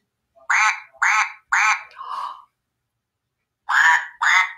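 A person's voice imitates a duck in a children's music singalong, giving three quick loud quacks, a lower rasp, a pause, then two more quacks.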